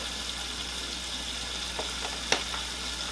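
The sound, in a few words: searing seafood in unsalted butter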